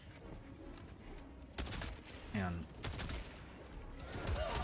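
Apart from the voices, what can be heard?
gunfire from weapons in the video game Helldivers 2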